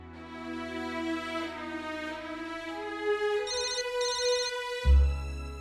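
A telephone rings with a bright electronic melodic tone, repeating steadily and fairly loud, ending with a low thump.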